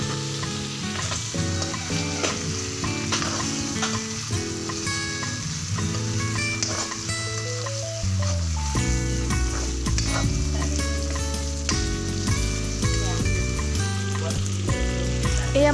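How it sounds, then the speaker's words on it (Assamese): Meat with onion and potato frying in oil and being stirred now and then, a loud steady sizzle with stirring scrapes beneath prominent background music. "এয়া মাংসটো মাজে মাজে লৰাই আছোঁ"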